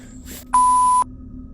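A single steady censor beep cuts in for about half a second, loud and pure-toned over faint outdoor background noise.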